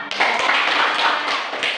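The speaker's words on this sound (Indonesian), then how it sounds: "Ya, tepuk tangan yuk." Students in a university civics class clapping together, a dense, continuous burst of close hand claps with no talking over it.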